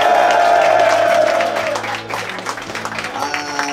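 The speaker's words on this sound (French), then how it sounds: "Merci de faire un tonnerre d'applaudissements" Applause and cheering from a Paris theatre audience at an impressions comedy show fill the hall, loud at first and then thinning to scattered clapping and crowd murmur as musical tones play underneath.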